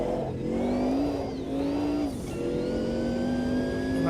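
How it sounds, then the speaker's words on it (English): Massive turbocharged race car engine in a sim racing game, revving and accelerating continuously with a steady loud drone and rising harmonic pitch sweeps, close and alone. "that turbo, the size of a dustbin, kicks in and catapults you down the track"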